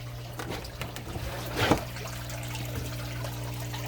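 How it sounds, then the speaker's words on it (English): Water pumped out of a fish tank trickles and splashes into an aquaponics grow bed, a steady soft flow under a low pump hum with one brief louder gush. "that's all the water coming out through my pump, coming out of the fish tank, right into my grow bed"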